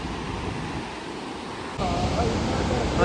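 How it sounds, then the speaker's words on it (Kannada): Continuous roar of Unchalli Falls, a broad rushing wash of water that grows louder and closer partway through. "ಸೌಂಡು ಮಾತ್ರ ಅಲ್ಟಿ ಆಗಿದೆ ಈ ಸೌಂಡ್ ನನಗೆ ಏನು ನೀರು ಸೌಂಡು"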